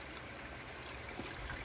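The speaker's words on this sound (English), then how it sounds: "I'm here filling the troughs and BG's always first to come and start drin" Water runs steadily into a horse trough on a farm, a soft, continuous trickling stream heard faintly at a distance.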